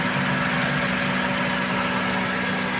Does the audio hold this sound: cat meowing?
no